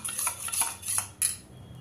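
A small spoon stirring a cornflour mixture, giving a quick run of light clinks and scrapes against the bowl that stop after a final tap, close and alone.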